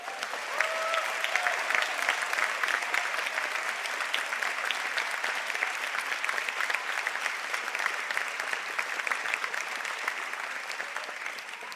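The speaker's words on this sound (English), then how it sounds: "I think we'll give them one more round of applause" Sustained applause from graduates' families and guests fills a conferring ceremony hall at Sligo and St Angela's, a steady dense clatter of many hands, moderately loud and unbroken for the whole stretch.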